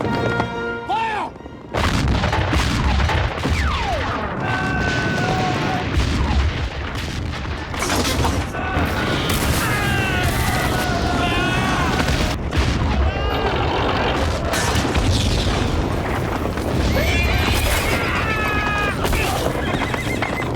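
Film battle scene with cannon fire mixed among neighing horses, hoofbeats and shouting voices, dense and loud throughout with booms and whinnies overlapping.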